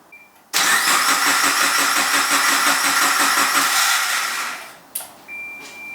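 A Subaru Legacy BG5 GT engine cranks briefly and catches, then runs at a loud, fast idle for several seconds before dropping off. A faint electronic beep sounds before and after.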